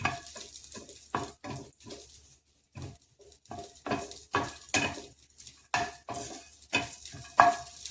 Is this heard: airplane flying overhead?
no